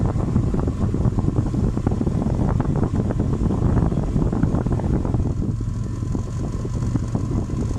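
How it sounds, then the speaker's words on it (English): An aftermarket Spal electric radiator fan on an idling Honda with a three-row radiator switches on. A loud, steady whooshing drone blends with the engine idle, and its tone shifts partway through. "when that Spal fan does kick on, like my AC kind of dies down and the RPMs kind of drop."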